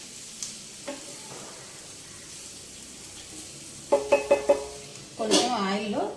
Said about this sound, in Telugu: కొంచెం ఆయిల్లో క్యాబేజీ మగ్గనిద్దామండి